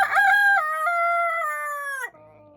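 A rooster gives one long, loud crow close by, held steady for about two seconds before trailing off, with no talk.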